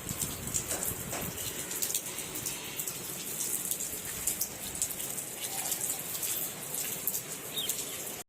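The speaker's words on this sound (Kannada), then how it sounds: "ಈಗ ಹೊರಗೆ ಮಳಿ ಬರತೈತಿ." Steady rain falls outside, a dense continuous hiss with scattered drops pattering on a surface, moderately near and unbroken throughout.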